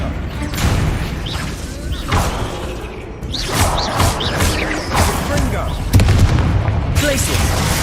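Confringo spell blasts from the Hogwarts Legacy video game, a run of booming explosive hits and whooshes spread across the clip, loud and punchy amid busy combat effects, with a player voice calling out spell names between impacts.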